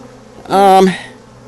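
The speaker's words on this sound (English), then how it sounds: "there is some confusion because there's a lot of buzzing over here" A swarm of honey bees buzzes during a swarm catch high off the ground. One loud, close buzz swells for about half a second and then fades back to a quiet background.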